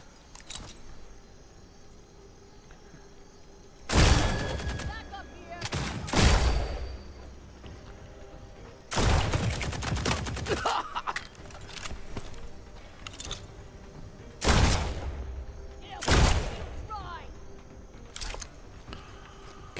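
Gunshots in the video game Redfall ring out in sharp, loud bursts, a few single cracks and clustered volleys spread over about twenty seconds, separated by quieter stretches of low ambient hum.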